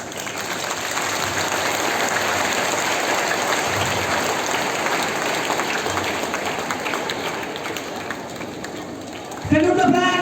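Applause from an assembled crowd at an Independence Day flag hoisting rolls on as steady, dense clapping for most of the stretch, then gives way at the end to a louder voice over a speaker system.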